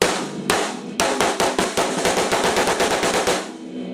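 A snare drum played with sharp rim shots: two separate cracks, then a fast, even run of loud, bright hits that stops abruptly.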